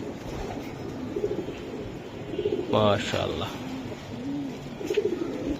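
Giribaz racing pigeons coo softly in low, repeated throaty calls while someone talks nearby.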